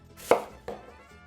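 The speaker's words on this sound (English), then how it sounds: "roughly dice 1/4 of a medium white onion" A knife roughly dices a quarter of a medium white onion on a cutting board, two crisp chops about a third of a second apart, close and otherwise quiet.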